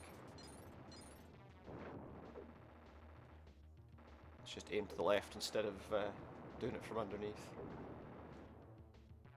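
Retro game explosions and cannon fire from the SNES game Time Slip: a burst of rapid booming blasts in the middle, layered with game music while someone talks over it.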